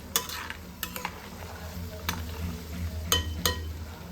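Homemade ghee made from cream slowly bubbling and sizzling in a pan as it turns reddish, with a soft continuous fry and several sharp metallic stirring clinks.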